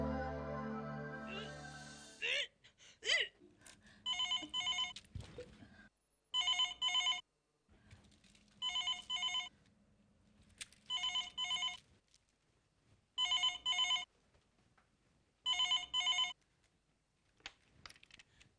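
A telephone rings in a domestic scene from a Hindi television drama, giving a series of evenly spaced electronic ring bursts with short silences between them after a brief stretch of background music. There is no talk over it.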